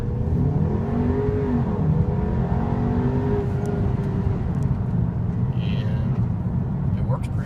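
2016 Audi A3 2.0T Quattro launching under launch control, its engine note climbing steadily through rising gears as the car accelerates hard, close and loud, with someone talking over it.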